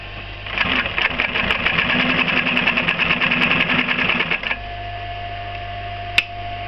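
A JUKI LH 515 twin needle compound-feed industrial sewing machine stitches through leather in a steady, rapid mechanical run of about four seconds, then stops, leaving a low motor hum and a single click.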